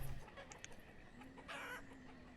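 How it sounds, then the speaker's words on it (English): Chickens clucking in the city-building game Banished, a few short quiet clucks and a brief higher call over faint background ambience. "The chickens are going derp!"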